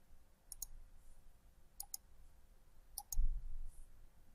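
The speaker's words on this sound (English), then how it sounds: "This can be done by Control and click," Pairs of sharp computer mouse clicks used to select several objects while Control is held, three quick double clicks spaced about a second apart, close and crisp over a quiet room hum.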